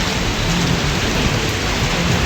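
Torrential rain pours down in Hassan, Karnataka, a steady, loud, dense roar with no pauses, and low rumbling underneath like distant thunder.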